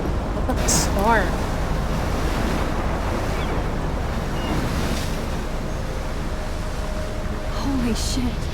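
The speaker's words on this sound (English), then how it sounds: "Look at the storm." A stormy seaside scene in the Life Is Strange video game, with steady roaring wind and crashing ocean surf throughout. Faint distant bird cries rise briefly over it.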